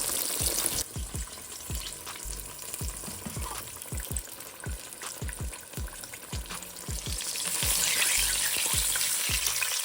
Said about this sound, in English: Get that fried up so pretty.